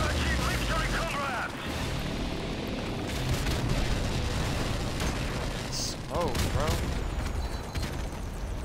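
A grenade goes off during a Call of Duty: Modern Warfare Remastered match, one deep boom set in a loud, steady wash of game gunfire and mechanical noise, with excited players talking over it.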